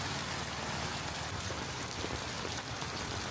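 Heavy rain pours steadily onto a street in Vietnam, a dense unbroken hiss with a faint engine hum beneath and no voices.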